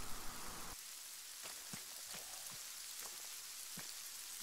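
Rain falls steadily during a video game mission, a soft continuous patter with a few sharper drops standing out, heard alone at moderate level.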